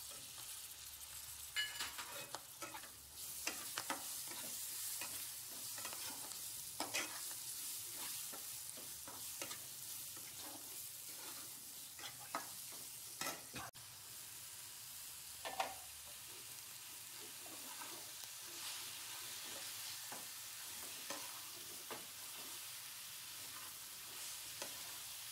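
Tomato with turmeric, chili powder and coriander powder sautés in a pan, giving a faint steady sizzle with soft scraping and clinks as a spoon stirs, quiet and close with no talk.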